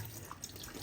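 Water running steadily from a newly repaired household faucet that used to drip, a soft, even splash with a faint hiss, fairly quiet and close.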